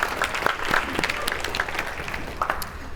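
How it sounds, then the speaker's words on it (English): Applause from a crowd of more than 250 people at a Parkinson's disease symposium's closing session. Many sharp individual claps stand out within a sustained wash of clapping from start to end. "give yourselves a round of applause"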